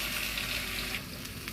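Vada frying in hot oil on a stove, a steady dense sizzle with bubbling crackle throughout, close and fairly loud, easing slightly toward the end.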